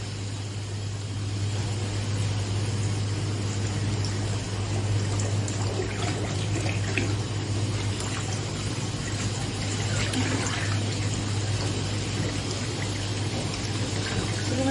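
Clean water fills a fryer tank for the next day, a continuous steady pouring hiss with a constant low hum underneath, unbroken for the whole stretch.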